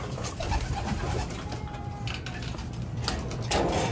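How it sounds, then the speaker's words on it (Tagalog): Flyer pigeons are released from a loft and flutter off, soft cooing mixed with scattered wing flaps and rustling, fairly close, with no voices heard. "pakawalan muna natin yung mga flyer natin. No? Gusto nang magsiliparan eh."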